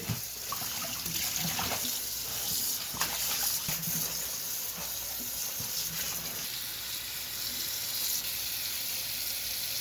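Callaloo greens are rinsed in a kitchen sink under running tap water, giving a steady close splashing gush with small irregular splatters throughout and no voices.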